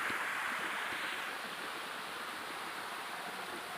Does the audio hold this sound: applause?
no